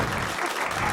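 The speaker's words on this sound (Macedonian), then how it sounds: "Браво, аплауз за Нино!" A brief, moderately loud burst of audience clapping on a Macedonian talk show, steady and dense for under a second, with voices faintly mixed in.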